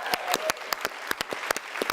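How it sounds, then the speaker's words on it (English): A handful of people clapping, sharp separate claps at an uneven rhythm that sound close and fairly loud, with no talking over them. "I just want to continue clapping"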